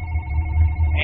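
A telephone rings in a brief electronic trill, fairly loud and close, over a low steady background hum with no talk.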